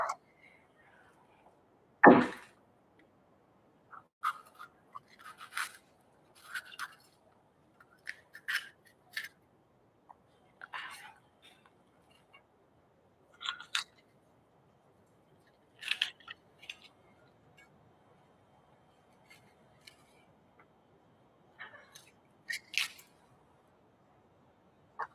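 A knife cuts a pepper into pieces, making sparse, quiet crunchy slices and taps at an uneven pace, with one sharp knock near the start and near silence between cuts.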